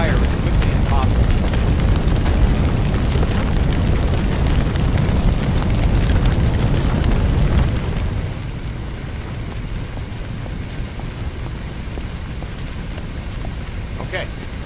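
A fire hose sprays water onto flames in the video game Firefighting Simulator, a loud, dense rushing roar that drops to a softer steady hiss about halfway through.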